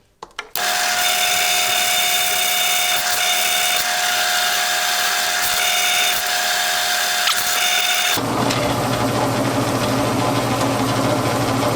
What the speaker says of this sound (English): Then I'm gonna drill this out until it's just big enough for that to fit in there.